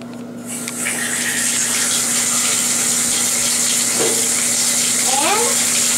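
A bathtub fills from the tap with a steady, loud rush of running water, close by and constant, with faint squeaks and a few brief higher sounds over it.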